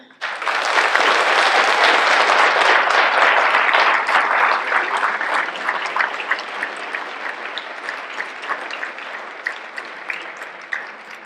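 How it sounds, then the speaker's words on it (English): Dinner audience applauding a Scout council award recipient, clapping that starts abruptly, builds to a full sustained round, then thins into scattered individual claps near the end. "Thank you, gentlemen, and one last round of applause."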